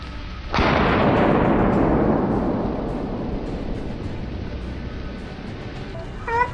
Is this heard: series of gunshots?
yes